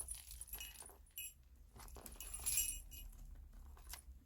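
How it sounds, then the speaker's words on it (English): Beads, small bells, pearls and charms strung on a large paper clip jangle and clink in a few short, light bursts, close and quiet, with brief gaps between shakes. "It's just got lots of beads and bells and pearls and charms"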